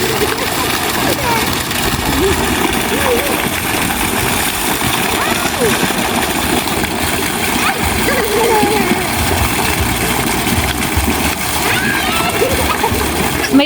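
Water gushing steadily into an empty resort swimming pool, a continuous splashing roar with an engine or pump humming beneath and people talking over it.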